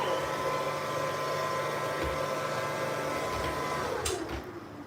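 A robot vacuum cleaner runs with a steady, close motor whir and brush noise throughout, easing off and fading near the end as it winds down.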